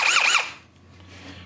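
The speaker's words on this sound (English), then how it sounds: "Higher setting on the drill helps." A power drill whines in a sharp, oscillating squeal as it bores a half-inch hole while installing a reverse osmosis drinking water system, loud and close for a moment before cutting off into quiet room hum.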